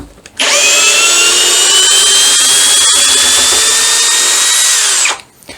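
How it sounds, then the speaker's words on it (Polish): An Einhell TP-CD 18/120 cordless impact drill driver, rated 120 Nm, spins up sharply and holds a loud, steady high-pitched motor whine for about five seconds before cutting off abruptly. "zdecydowanie jest to bardzo mocna wkrętarka"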